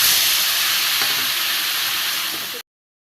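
Spiced water poured over fried taro and potato pieces for a vegetarian curry sets off a loud, steady sizzle and hiss. It runs close and unbroken for about two and a half seconds, then cuts off abruptly.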